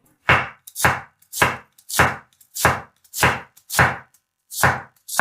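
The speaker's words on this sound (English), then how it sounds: "Half a medium onion. Cut it very small." Knife chopping half a medium onion very small on a cutting board, about ten sharp, evenly spaced strikes, close and crisp, with brief silences between them.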